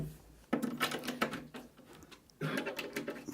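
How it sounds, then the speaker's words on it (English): Cam lock fittings on a Cooke & Lewis 925 flat-pack base cabinet being tightened, giving quick bursts of ratcheting clicks and scraping against the wooden panel, close and fairly loud, with short pauses between turns. "Tightening the cams up as I go."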